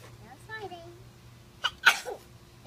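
A child gives one sharp, loud sneeze while playing outdoors in a backyard, following brief child chatter and followed by a short vocal sound.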